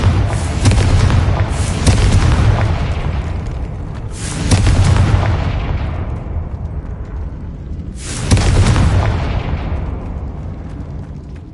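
Three loud booming explosions from the Confringo fire spell in Hogwarts Legacy, each bursting suddenly and rumbling away over a few seconds, with no talk over them.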